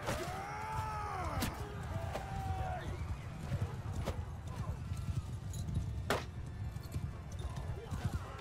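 Horses galloping in Mount & Blade II: Bannerlord, rapid hoof clip-clop over a noisy battle bed with occasional sharp thwacks and a whinny, while someone talks over it.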